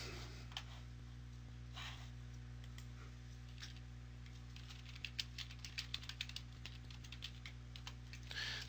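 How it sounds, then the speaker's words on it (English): Fingers type rapidly on a computer keyboard, a soft irregular patter of key clicks that thickens toward the end, heard alone over a steady low electrical hum. "I'm typing without looking."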